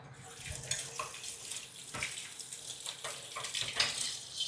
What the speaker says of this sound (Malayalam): ഞാൻ പോയി പാത്രം കഴുകട്ടെ.